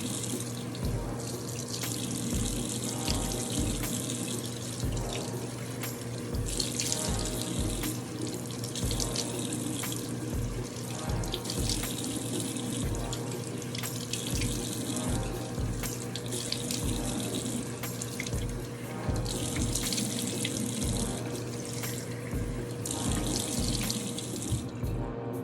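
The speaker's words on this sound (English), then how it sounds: "I rinse it off with lukewarm water." Lukewarm tap water runs steadily into a sink during a face rinse, a continuous close splashing stream with faint drips and splatters throughout, no voices.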